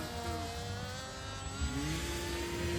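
An RC model airplane takes off, its motor a steady, fairly loud whine that climbs in pitch partway through, with no voices over it.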